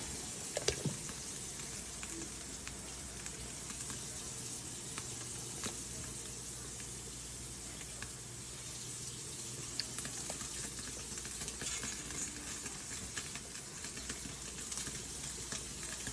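Meat being added to a pot of Cambodian pho broth gives a faint, steady sizzle and bubbling hiss that runs throughout, with a few small clicks and knocks and no voices.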